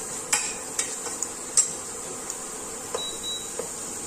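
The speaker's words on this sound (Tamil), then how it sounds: "இந்த கேரட்டை இதுல சேர்த்துக்கலாம். இது நல்லா வதக்கி கொடுத்துக்கலாம்." Carrots are stirred in a pan with butter while being sautéed for carrot kulfi, with sporadic sharp spatula clicks and scrapes over a faint, soft sizzle and no talking.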